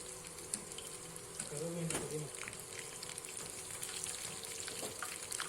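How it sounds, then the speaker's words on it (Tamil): Soya chunks fry in oil with curry leaves, a steady crackling sizzle close by, with a brief spoon clink and a short burst of muffled talk partway through. "ஒரு கொத்து கருவேப்பிலையை இதில் கிள்ளி போட்டு அதையும் சேர்த்து நம்ம வறுத்து"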